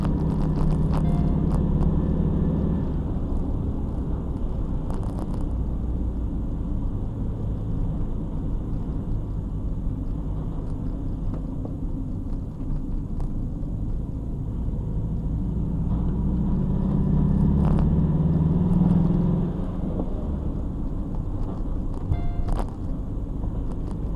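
A van's engine strains under full throttle on an Alpine road, a loud continuous low drone and rumble inside the cab that swells and eases slightly, with the gearbox behaving poorly and no talking.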